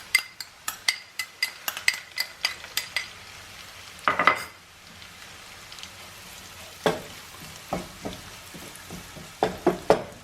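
Ginger and garlic frying in a pan for a spicy garlic mushroom dish, with a series of sharp metallic taps and scrapes of a spoon against the pan over a soft, steady sizzle.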